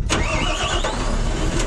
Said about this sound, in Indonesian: Selanjutnya kita putar ke kanan lagi sampai kendaraan bunyi.